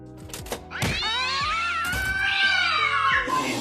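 A cartoon cat yowls and caterwauls in a long, wavering, rising and falling cry, loud and close, preceded by a few thumps.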